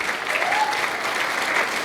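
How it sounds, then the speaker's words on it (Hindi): An audience claps in steady, dense applause, moderately loud and sustained throughout, with no single clap standing out. "तालियां भी दिल से बजा दो"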